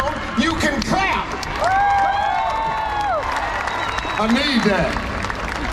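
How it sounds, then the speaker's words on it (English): A large live audience claps and cheers at a talk show in Dubai, a steady crowd roar under an amplified voice speaking over it, with tonal sounds cutting through midway. "If you put your phones down, you can clap."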